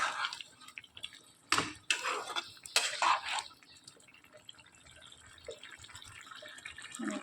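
Pumpkin and fried prawn curry is stirred in a pan with a few wet, sloshing scrapes near the start, then settles into a quiet, faint bubbling.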